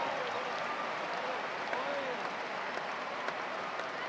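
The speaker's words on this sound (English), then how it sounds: "no wonder the fans applaud" Fans at a US Open tennis match applaud after a doubles rally, a steady wash of clapping heard at moderate volume with a commentator's voice over it.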